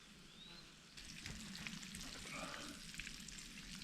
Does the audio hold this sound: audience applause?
no